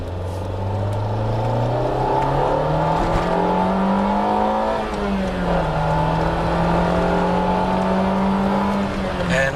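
The SR20 engine of a Nissan Pulsar GTI-R revs loudly and steadily close by, its pitch climbing, dipping briefly and rising again through a sustained run.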